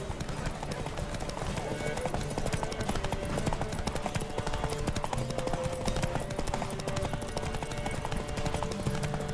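Rapid, steady clip-clop of a horse's galloping hooves in The Witcher 3, continuous and fairly loud, with a busy rhythmic game soundtrack underneath.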